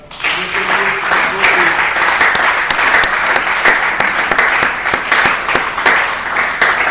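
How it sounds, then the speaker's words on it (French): A church congregation bursts into sustained, loud applause that fills the room, many hands clapping together steadily for several seconds, with a few voices mixed in. "Merci d'avoir acclamé pour moi, c'est très gentil."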